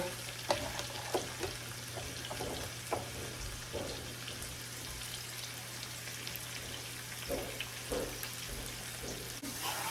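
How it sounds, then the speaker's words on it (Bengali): Ginger, garlic and other ingredients fry in ghee with a faint, steady crackle, broken by occasional soft stirring scrapes over a low background hum. "সব কিছু ভালো করে ভাজা হয়ে গিয়েছে"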